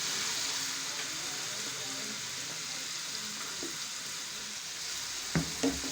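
Chopped turnips frying in a pan, a soft steady sizzle with faint stirring, close and fairly quiet, a couple of brief knocks near the end.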